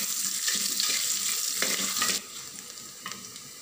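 Small onions sautéing with curry leaves and tomato for a village-style mutton kuzhambu, a steady close sizzle with scraping stir strokes that drops to a quieter, softer frying hiss partway through.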